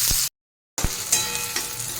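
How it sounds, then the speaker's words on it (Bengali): Chopped onions frying in hot oil for dahi chicken, a broad steady sizzle that runs continuously apart from a brief silent gap, with a few louder stirring bursts and no talking. "পেঁয়াজ কুচি দিয়ে দেবো, দিয়ে একটু ভাজা ভাজা করে নেব।"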